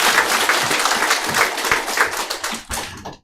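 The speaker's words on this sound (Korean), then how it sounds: "한번 일어나 주시면 큰 박수로 환영하도록 하겠습니다" A church congregation applauds to welcome visiting guests during a Christmas service, steady dense clapping from many hands filling the room before tapering off near the end.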